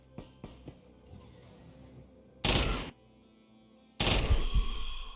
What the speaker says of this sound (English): What was that sound effect? It sounded like there was an explosion.